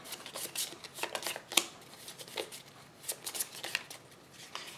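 Imperial Settlers game cards shuffled by hand, a run of quick riffling bursts with a short pause in the middle, close and soft.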